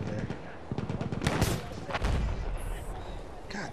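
Battlefield 1 gunfire in a campaign battle: bursts of loud shots and heavy booms in quick succession, mixed with someone talking.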